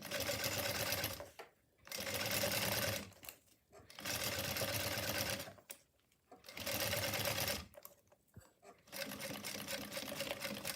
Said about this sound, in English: top stitching.